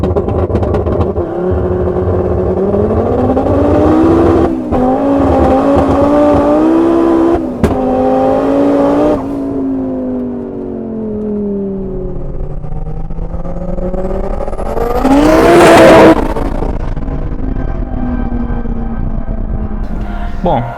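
Tuned Fiat Marea Turbo making 500 hp at the wheels with a straight exhaust, revving repeatedly with rising and falling engine pitch and a sharp loud spike of revs near the end, heard close up.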